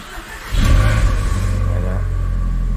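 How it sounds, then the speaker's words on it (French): A SEAT Leon Cupra R engine cranks briefly and catches at once, then settles into a loud, steady idle that rumbles on close by without talk. "Si on met le contact, on peut constater que la voiture démarre au quart de tour."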